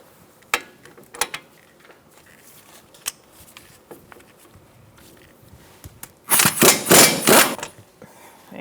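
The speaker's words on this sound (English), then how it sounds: "we're going to take off our 2 bolts holding the whole caliper on. One here and one here. We're going to be using an 18mm socket." An 18mm socket on a ratchet works loose the brake caliper bolts of a 2012-2018 Ford Focus: scattered metallic clicks and knocks, then a quick burst of rapid ratcheting, close by.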